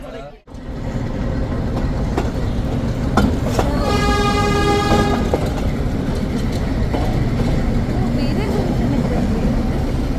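The Ooty toy train is running in a hill station setting, giving a steady loud rumble of the carriages and a clear sustained horn blast partway through.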